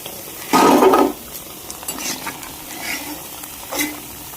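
Semolina (suji) rings fry crisply in hot oil, a loud, close bubbling sizzle bursting up for about half a second before settling into softer frying crackle and light utensil clinks.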